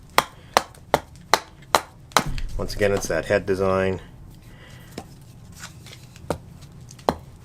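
A Fiskars 14-inch axe splits wood in a run of sharp, evenly spaced chops, about seven strikes close to the microphone. Someone speaks briefly partway through, and a few more chops follow.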